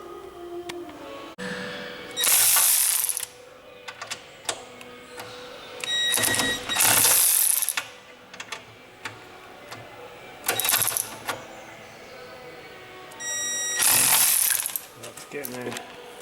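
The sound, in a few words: ratchet undoing bolts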